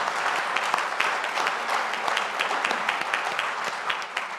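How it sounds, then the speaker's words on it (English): Conference audience applauding steadily, a dense even wash of many hands clapping close by, with no talk over it. "I think we should give them a round of applause"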